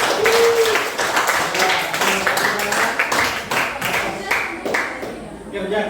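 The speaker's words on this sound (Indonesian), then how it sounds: "Kita berikan aplaus untuk semua itu." Classroom applause from students in an Indonesian school lesson, a dense burst of many hands clapping that carries on steadily and fades slightly toward the end.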